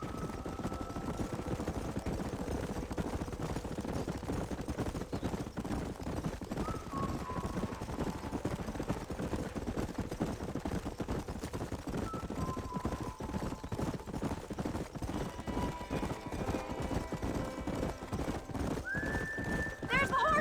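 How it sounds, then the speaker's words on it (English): Horses clip-clop and whinny in the western video game Red Dead Redemption, a dense steady patter of hooves running throughout with occasional neighs rising above, voices talking over the top. "There's the horses!"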